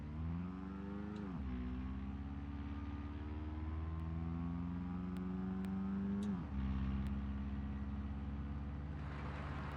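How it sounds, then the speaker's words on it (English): A car engine drones steadily while driving, revs rising smoothly and then dropping sharply at two gear changes, close and continuous with light clicks overhead. "I'm also not gonna listen to lo-fi for now because I want to hear the car."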